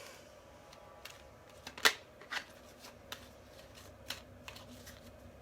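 A deck of tarot cards is shuffled and flipped, giving soft scattered taps and riffles with one sharper snap near the middle, quiet and close with no voices.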